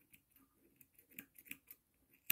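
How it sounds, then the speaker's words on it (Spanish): Scissors snip through crochet yarn while making a puff-stitch flower, a run of faint small clicks ending in one sharper close snip. "Agarramos nuestras tijeras"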